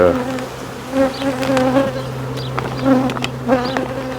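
Honeybees buzz densely around a packed grafting colony, a close, sustained droning hum with individual bees whining past the listener in brief swells.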